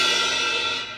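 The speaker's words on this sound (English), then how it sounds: "These things up here are all called crash cymbals." Crash cymbal on a drum kit, a bright shimmering wash already ringing and slowly decaying, loud and close with no other sounds.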